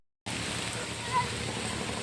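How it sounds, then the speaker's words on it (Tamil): A steady soft hiss of rain falling in the Andaman Islands, constant and even, starting abruptly after a brief silence. "திரும்ப மழை பெய்யுதா?"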